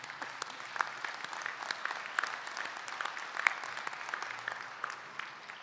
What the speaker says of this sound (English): How about a round of applause for our awesome Hall of Fame team?